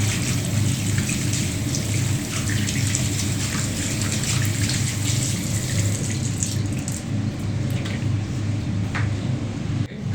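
Hands being washed under a running tap, a continuous splashing water stream with irregular spatter, close and steady, with no talking.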